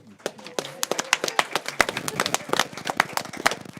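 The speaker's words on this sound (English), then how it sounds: "We'll clap for you." A small group at a City of Oak Grove, Missouri board of aldermen meeting claps in a short, uneven burst of close, sharp hand claps, with people talking over it.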